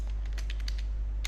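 Brief bursts of clicks from a computer keyboard being typed on, a handful of quick keystrokes spread over a moment against a steady low hum, fairly faint and with no talking.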